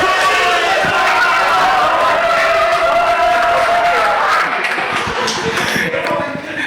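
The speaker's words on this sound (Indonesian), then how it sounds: "Tepuk tangan untuk Depok." A studio group of fans applauds and cheers for Depok, a busy, loud mix of clapping and voices that keeps going steadily and then thins out near the end.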